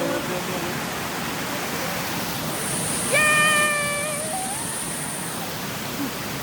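A waterfall pouring with strong force, a steady broadband roar filling the scene throughout, with a brief whistle-like tone and people talking over it.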